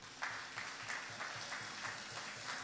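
Church congregation applauding the Lord during a French-language sermon, a steady, fairly faint wash of clapping with a rhythmic pulse running throughout.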